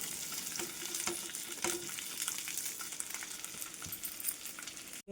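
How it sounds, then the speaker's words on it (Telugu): Boiled taro pieces frying in a tempering of spices, a soft continuous sizzle with occasional stirring scrapes, quiet and close, ending abruptly. "చామగడ్డలు ఉడికించుకున్నాం కదా, ఈ తడి అంతా పోయేంత వరకు మంచిగా ఫ్రై చేసుకోవాలి"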